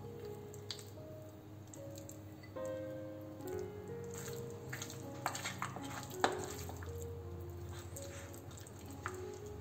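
Pork ribs being hand-mixed with black bean sauce, pepper and cornstarch in a bowl, a run of soft wet squishing and sticky stirring sounds, quiet and close, with occasional small clicks.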